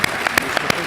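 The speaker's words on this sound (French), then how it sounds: "Je vous propose de les applaudir." A short burst of applause at a public business-award presentation, a handful of distinct, fairly loud claps spaced irregularly, ending abruptly.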